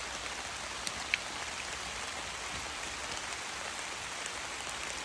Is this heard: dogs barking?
no